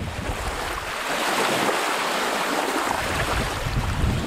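Strong wind buffets the microphone while waves wash and slap against the water during spring wilderness camping, a steady loud roar with no pauses.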